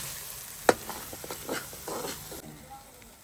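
Onions, ginger, garlic and green chilli frying in a pressure cooker pot, with a sharp clatter of stirring followed by a soft sizzle and brief scraping, fairly quiet overall.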